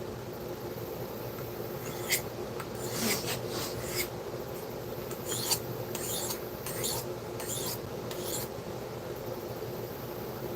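A knife blade is sharpened with a series of dry, rasping strokes in irregular bursts over a low steady hum, close by and fairly quiet.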